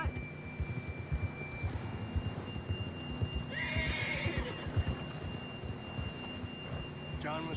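A horse in a Western video game, ridden in pursuit, clops along with a steady rhythm of hooves and lets out one loud, shrill whinny midway, with game ambience underneath.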